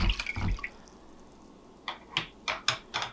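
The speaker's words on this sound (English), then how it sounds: "add the water, sugar, and yeast, and whisk it together till it's thoroughly combined." A whisk stirs water, sugar and active dry yeast in a bowl for Amish sweet bread, a run of quick close scraping clinks and splashes, a quiet gap, then several more rhythmic strokes.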